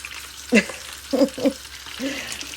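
Food frying in a pan while a red sauce is cooked with chopped onion and pressed garlic. A steady sizzle runs underneath, broken by a few short, louder clattering stir or scrape sounds close by.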